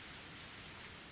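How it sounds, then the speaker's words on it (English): Heavy rain pours steadily in the visual novel game Higurashi: When They Cry, a soft, even, continuous hiss with no distinct drops or thunder, faint and heard alone without voices. "Even the sound of the engine faded into the sound of the heavy rain."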